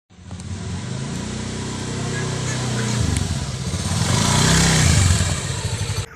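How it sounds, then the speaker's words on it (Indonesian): A motorcycle engine runs steadily and fairly close, a low droning hum that rises in pitch twice, with faint background noise throughout. "Ya mang motor teh."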